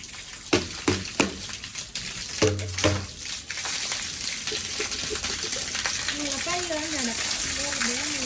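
Rainwater gushes from a drain pipe with a debris-clogged bend, first as a few splashing spurts and then as a continuous hissing stream, while a person talks over it.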